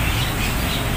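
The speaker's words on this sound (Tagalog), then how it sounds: "so daming naguhunihan dito sa mga kapunuan," Birds squawk and call from the trees of a city cemetery, a steady close chorus filling the whole moment with no voices.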